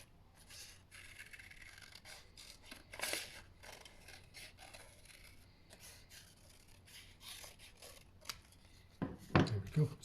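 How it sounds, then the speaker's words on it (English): Scissors snip through card stock while cutting out a paper heart for a Valentine's card, a steady run of faint close-up snips and rubbing scrapes, with a louder handling clatter near the end. "use your scissors to cut along that line"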